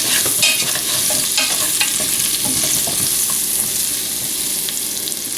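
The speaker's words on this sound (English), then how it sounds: "Let me give this a whisk around a bit." Garlic and herb seasoning whisked around in a hot pan, a steady loud sizzle with scraping stirring throughout.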